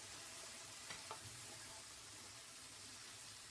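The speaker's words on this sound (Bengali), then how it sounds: "প্রায় 2 মিনিট ভাজার পরে এর সাথে আমি দিয়ে দিচ্ছি পেঁয়াজ কুচি, কাঁচামরিচ কুচি দিয়ে আমি আবার ভেজে নেব।" Chopped onion, green chili and tomato frying in a pan give a steady, soft sizzle throughout, with a couple of brief stirring knocks near the start and no talk.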